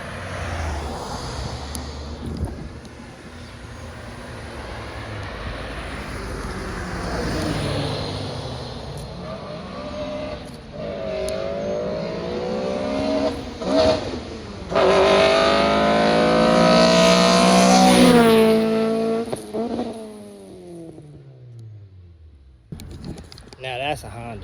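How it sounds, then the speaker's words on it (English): A Honda EG hatchback with an all-motor build revs hard as it passes, the engine note climbing and falling in rising sweeps before fading away, with people talking over it throughout. "Now that's a Honda."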